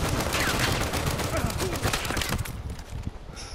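Rapid bursts of gunfire rattle and crack during a team deathmatch in Uncharted 4, with voices talking over the shooting.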